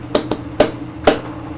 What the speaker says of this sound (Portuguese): Paô são palmas sincronizadas